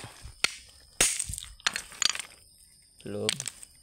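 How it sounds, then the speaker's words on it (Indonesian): White rock is struck and broken apart outdoors while hunting for agate stones, giving several sharp cracking and crunching impacts spread across the moment, with a voice briefly audible near the end. "Batu putih kita pecah dulu."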